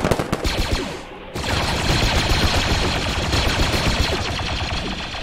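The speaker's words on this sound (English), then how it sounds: "They're shooting into the trees." Sustained automatic gunfire in the Squad Galactic Contention mod, dense rapid bursts of shots, loud and close, with a brief lull before the firing resumes and keeps going.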